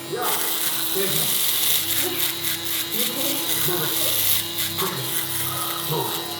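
A BaByliss UV double-foil electric shaver buzzes steadily and close throughout, with a gritty mechanical hum as it is used to bald out hair. A voice talks over the motor.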